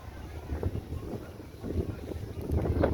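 Strong gusts of wind buffet the microphone with a low, rumbling roar that surges and builds.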